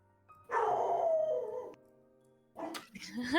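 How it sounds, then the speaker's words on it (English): A dog howls at a doorway in a Shadow of the Demon Lord tabletop game session, one long wavering howl followed after a brief pause by a shorter, rising cry, fairly close and loud. "You hear Thrax's dog howling at the doorway."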